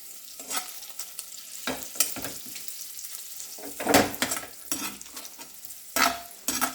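Paneer frying with turmeric in a pan, with repeated stirring strokes scraping through a soft, steady sizzle, loud bursts at irregular intervals and no talking.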